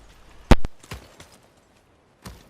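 Hooves of a horse in the Ghost of Tsushima video game clop out as a few sharp, close thuds, a quick double strike followed by lighter scattered steps and one later hit, with no speech.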